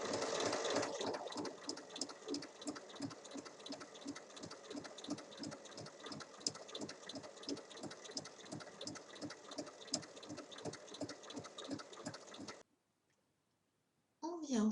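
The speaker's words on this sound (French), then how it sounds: "on va piquer tout le long à 1 mm" A sewing machine runs steadily, stitching along a folded fabric strap for a small shoulder-bag pouch in a fast even needle rhythm at close range, then stops abruptly, leaving near silence before a brief final sound.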